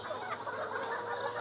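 Layer chickens, a batch of about 1100 at a hatchery, clucking continuously in a dense, steady murmur of many birds at close range.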